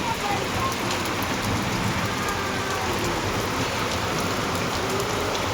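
Heavy rain pours down steadily, a dense, constant hiss of drops drumming on surfaces close by, with no break throughout.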